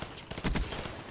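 A quick pair of gunshots from the shooter game Black Ops 3 cracks out in a short burst, fairly faint against a quiet background.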